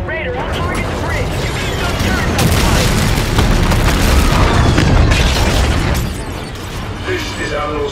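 Heavy explosions boom from fire on a supercarrier in Call of Duty: Infinite Warfare, loud overlapping blasts and bursts in a dense, sustained barrage with battle noise throughout.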